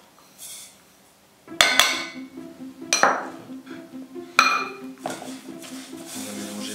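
Vanilla butter and sugar being mixed in a bowl for cookie dough, heard as a series of sharp clinks and scrapes of a utensil against the bowl, with irregular knocks and quieter pauses between them.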